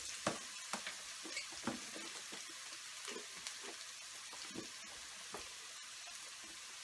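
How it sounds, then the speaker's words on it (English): Onions and cloves are sautéed quickly in a pan while cooking aloo palak: a soft, quiet sizzle broken by repeated sharp utensil taps and scrapes at an uneven rhythm, close by and with no voices. "We're just going to kind of quickly saute them."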